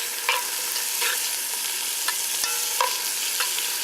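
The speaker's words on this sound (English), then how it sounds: "we'll saute these onions a little bit and get this garlic going" Onions and garlic sautéing in a pot on a Bayou Classic outdoor cooker, a steady loud sizzle with periodic scraping stirs of the spoon, no voices.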